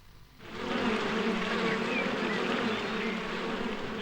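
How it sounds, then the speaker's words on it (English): Bees buzzing in the Winnie the Pooh's Rumbly Tumbly Adventure video game, a steady, continuous drone that starts abruptly and holds at even loudness throughout, with no talking. "are those bees stopping you from passing by?"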